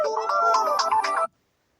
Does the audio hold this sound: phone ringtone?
yes